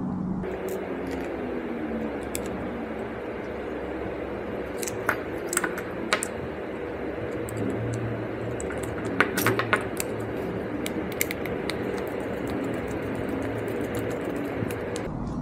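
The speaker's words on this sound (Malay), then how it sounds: "Terus sekali kita masukkan washer dia." A metal washer is fitted onto the mounting bolt of a boat sonar transducer, giving a few small scattered metallic clinks and taps over a steady room hum.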